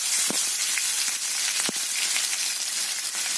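Garlic, green chili and onion sizzling in hot oil in a pan, a steady close hiss with a few sharp pops and crackles.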